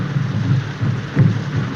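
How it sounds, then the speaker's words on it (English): Heavy rain falling at night, a dense steady wash with low rumbling underneath and a few slightly louder swells, continuous and fairly loud. "I couldn't sleep. This rain and those drums."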